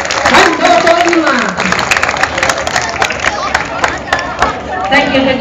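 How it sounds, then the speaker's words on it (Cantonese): An event audience claps and cheers, a lively scatter of applause and crowd noise with voices calling out and chatter mixed in throughout. "俾啲掌聲好唔好啊"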